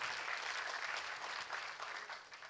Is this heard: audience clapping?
yes